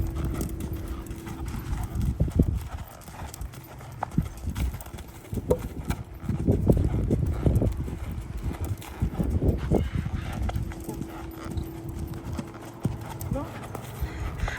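Tennessee Walking horse named Teddy, a pacey horse, moving as it is asked to canter, with hooves clip-clopping in uneven bursts at moderate distance while people talk over them.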